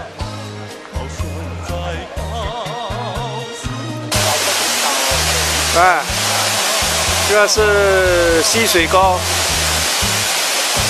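A waterfall on Mount Mianshan in Shanxi roars as a broad, loud, steady rush that surges in partway through, with voices and background music layered over it.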